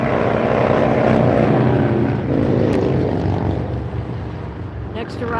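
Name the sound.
Qantas Airbus A380-800 arriving at LAX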